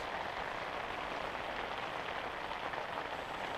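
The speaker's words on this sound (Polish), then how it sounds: "no normalnie ulewa" A heavy downpour drums in a constant, even wash on an ice-fishing tent, steady and fairly quiet with no pauses.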